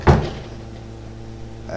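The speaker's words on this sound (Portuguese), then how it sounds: "Hoje está ventando, então uma bateção de porta legal aqui" A door bangs once sharply in gusty wind, a loud knock at the start followed by a faint rattle near the end, with a low steady hum in the background.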